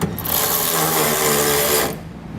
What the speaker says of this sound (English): Now I'm going to come back using a 9/16 socket and tighten up the nuts.